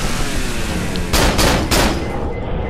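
Three quick gunshots ring out in the horror video game Cry of Fear, loud and close over a constant noisy game background.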